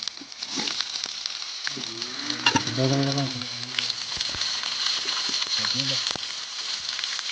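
Chopped shallots go into hot oil while an Idukki-style spicy rabbit fry is cooked, giving a steady, close crackling sizzle; a voice briefly speaks over it partway through.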